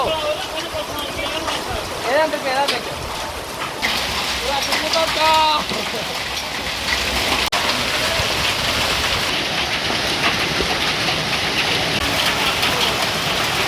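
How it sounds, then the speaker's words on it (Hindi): Torrential rain pouring steadily in Reasi district, a dense, loud, continuous hiss of downpour on surfaces, with voices speaking over it early on. "आज जिला रियासी में मूसलाधार बारिश से रियासी के लोगों ने राहत की सांस ली है"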